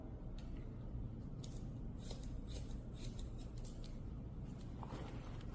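Scissors snipping hair during a hairdressing licensing exam haircut, a close series of quick crisp cuts over a steady low room hum, with no talking.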